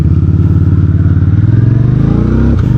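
A VOGE CU625 AMT motorcycle with an automated manual gearbox accelerates close and loud, its engine pulsing rapidly and rising in pitch, then dipping briefly at a gear shift.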